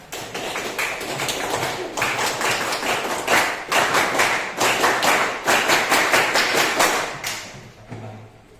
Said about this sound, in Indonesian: kita biar kompak 2 kali tepuk pramuka